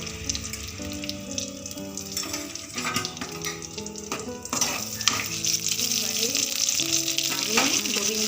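Gobindobhog rice frying in white oil with a spoonful of ghee, a steady close sizzle under overlapping melodic background music, with a few clinks and stirring scrapes.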